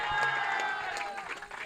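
Crowd claps and cheers for a prize winner at an under-age cricket tournament trophy ceremony, a short burst of applause mixed with voices and a loudspeaker announcer.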